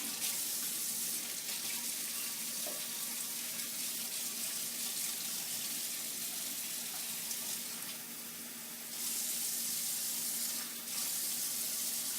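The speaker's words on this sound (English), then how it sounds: "2 cups of lukewarm water right out of the tap." Lukewarm tap water runs steadily into a cup in a kitchen, a close continuous hiss that briefly dips in the middle before flowing on.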